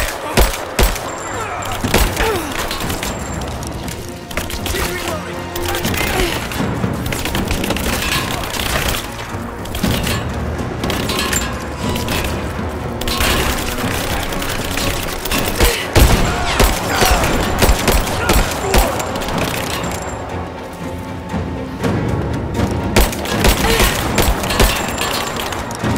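Sustained gunfire and firefights in the video game Rise of the Tomb Raider, dense bursts of shots and booms running almost continuously and loudly throughout, with shouted voices mixed in.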